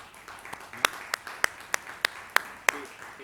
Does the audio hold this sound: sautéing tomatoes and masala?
no